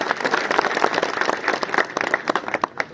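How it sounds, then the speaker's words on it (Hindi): Village panchayat gathering applauding to welcome a local council member, a brisk clatter of many hands clapping that starts dense and breaks into scattered, uneven claps toward the end. "रामचंद्र जी हमारे बीच हैं, तालियों से स्वागत करें"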